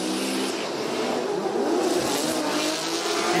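Formula Drift Japan battle run with drift cars: a loud, continuous engine roar and tire squeal blend into a steady, dense wash of noise that holds throughout.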